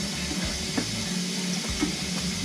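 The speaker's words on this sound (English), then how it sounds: "let's run some water." A tap runs water in a home with a Weil McLain Ultra Plus boiler and indirect hot water tank, giving a steady rushing hiss with faint knocks and low hum beneath.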